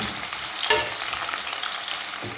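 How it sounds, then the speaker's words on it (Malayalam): Mango pieces fry in hot oil, giving a steady, bright sizzle with a faint clink as they are stirred. "ഇതിൻ്റെ തൊലിയുടെയൊക്കെ കളർ മാറുന്നത് വരെ ഒന്ന് എണ്ണയിൽ തന്നെ കറക്കട്ടെ"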